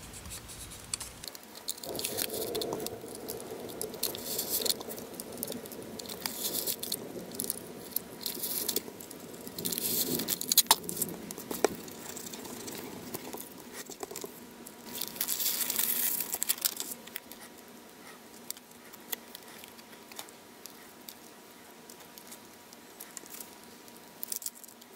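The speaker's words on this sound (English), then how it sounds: "I'm just going to take each one of my little aliens here and run them through my Xyron sticker maker" Paper alien cutouts run through a Xyron sticker maker, giving a steady, close crinkling and rustling of paper with soft feed noises, moderately quiet and unbroken by talk.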